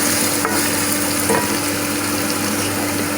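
Spice masala for a jackfruit curry fries and sizzles in a pan as it is stirred, a steady, close crackling hiss with faint scraping and no talking.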